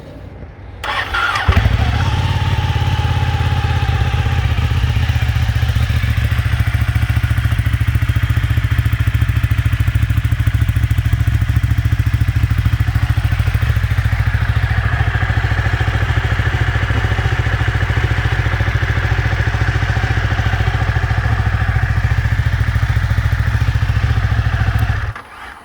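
A 2012 Ducati 1199 Panigale S Tricolore superbike is started with a brief crank and then idles loudly and steadily up close, with a deep rumble that holds until it cuts off at the end.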